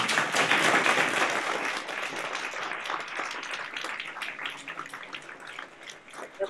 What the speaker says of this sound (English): So I think we may applaud you